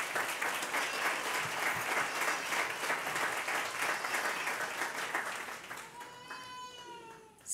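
Steady applause from a crowd at a swearing-in ceremony, dense clapping that fades out toward the end, replaced by faint tonal sounds.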